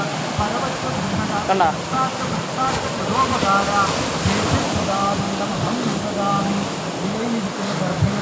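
Sea waves surge and wash onto Varakkal beach in a continuous broad roar with swelling breaks, while people talk over the surf.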